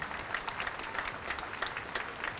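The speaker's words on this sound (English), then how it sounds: "Can we just give a round of applause for her?" An audience at a games opening ceremony gives a round of applause, steady dense clapping from a large crowd, moderately distant and even throughout.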